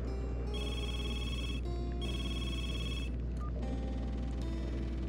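A telephone rings in the video game Super Daryl Deluxe, two long electronic ring bursts separated by a short gap, then a shorter trailing ring, heard alone over a constant low hum.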